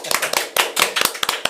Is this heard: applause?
yes